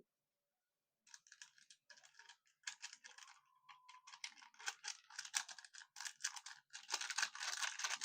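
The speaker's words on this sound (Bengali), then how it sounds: "আমি এখানে দুটো মিডিয়াম সাইজের আলুর জন্য পুরো এক প্যাকেট ছিঁড়ে দিয়ে দিচ্ছি" A whole Maggi Masala Magic spice packet is torn open by hand over two medium potatoes: a second of silence, then close, crisp crinkling and ripping of foil-plastic in irregular bursts that grow louder and denser toward the end.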